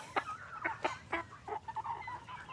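Pastured hybrid chickens, dominant CZ type, cluck in a series of short, close, fairly loud calls with irregular rhythm, alone without talk.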